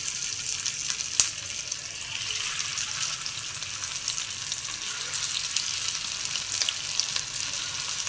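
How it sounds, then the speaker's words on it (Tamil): Prawns frying in hot oil for a Prawn 65 dish. A steady, bright sizzle runs throughout, with a sharp pop or clink near the start and a few faint crackles. "இப்போ ஆயில் காஞ்சிடுச்சு நம்ம அதில் ஒன்று ஒன்றா போட்டு ஃப்ரை பண்ணிக்கலாம்"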